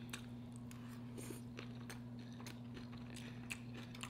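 Crunchy sautéed cabbage chewed close to the mic, a run of faint, irregular crunches and bites over a steady low electrical hum, with no talking.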